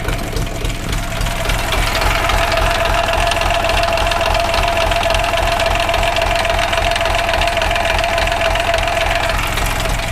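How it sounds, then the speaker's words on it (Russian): A tractor's diesel engine idles with a persistent knocking, loud, close and continuous, a steady mechanical rattle over the low running drone. "Мне сразу сказали, что в моторе присутствует стучок."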